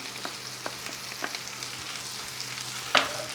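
Sliced sucuk sausage and potatoes fry in a pan with a steady close sizzle, a few soft stirring taps, and a sharper crackle near the end.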